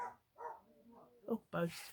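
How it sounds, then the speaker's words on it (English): Dogs bark indoors in a few short, faint yips and woofs, tangled with a brief spoken remark. "Sorry about the dogs barking."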